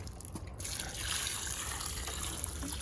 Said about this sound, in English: So add some water to it.